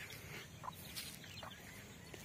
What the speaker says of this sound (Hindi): इस मुर्गी ने 4 बच्चे दिए, उस मुर्गी ने 11 बच्चे दिए